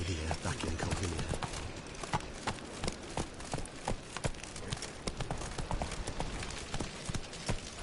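Roach, a horse in the video game Witcher 3, gallops with a steady, rapid clip-clop of hoofbeats throughout, set against a dense game soundscape with voices talking.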